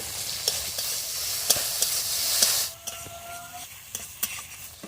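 Dried red chilli paste and turmeric sizzle loudly in a hot pan for a sea fish curry, with repeated spoon scrapes and stirring clicks. The sizzle drops off sharply partway through and leaves quieter stirring taps.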